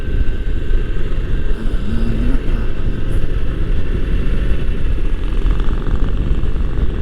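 Harley-Davidson motorcycle on a test ride, a continuous low, rumbling engine roar heard from the saddle, steady and loud for the whole stretch and mixed with rushing wind.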